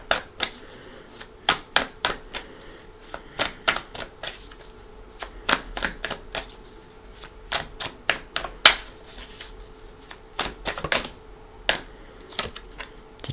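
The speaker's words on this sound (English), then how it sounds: "All right, one more shuffle right across the whole spread." Tarot cards shuffled across a spread during a live reading, a run of sharp, crisp snaps and flicks at uneven intervals, close and fairly clear over a faint steady hum.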